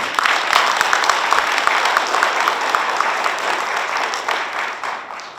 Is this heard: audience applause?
yes